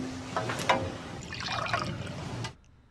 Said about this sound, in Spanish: El ruidito del agua es fantástico.